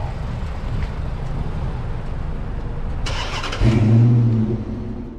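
A 1992 Suzuki Every kei truck sits idling as a low steady rumble, then its small engine revs up sharply and it pulls away, close by and loud.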